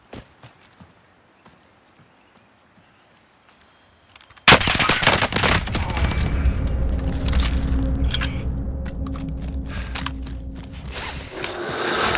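Sustained automatic fire from an Automaton rifle in Call of Duty: Warzone bursts in loudly after about four quiet seconds and rattles on nearly continuously to the end, with no talk over it.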